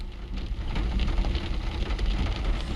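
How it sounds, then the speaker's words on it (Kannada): Steady rain pours down on Bengaluru in a dense, continuous hiss with a low rumbling undertone, close and fairly loud, with no voices. "ಈಗ ಮತ್ತೆ ಮಳೆ ಶುರು ಆಗ್ತಾ ಇದೆ"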